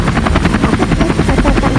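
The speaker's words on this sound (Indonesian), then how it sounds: "Dia tahu helikopter itu tanpa awak yang dikembalikan oleh Tuhan" Unmanned helicopter with a loud, close, steady rotor chop, fast rhythmic blade thumping over a constant whirring buzz, no voices.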